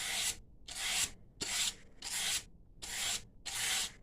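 Palm sander sharpening an oiled knife blade held in a vise, giving six rhythmic bursts of close, loud rasping grind separated by short pauses.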